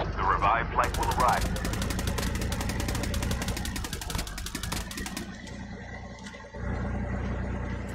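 Rapid automatic gunfire in the mobile battle royale game Call of Duty Mobile, a long dense burst of sharp repeated shots over a low engine rumble, with brief game voice chatter near the start.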